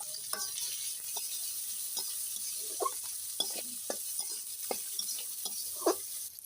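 Garlic and green chili hit a pan of frying shrimp, giving a steady close sizzle broken by scattered stirring scrapes and clicks, with no talking.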